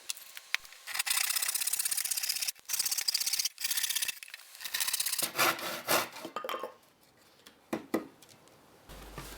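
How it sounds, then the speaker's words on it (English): A handsaw cuts wood for a mallet handle, steady rasping back-and-forth strokes up close with brief pauses between runs, then slower, sparser strokes toward the end. "Next, measure and cut out the handle."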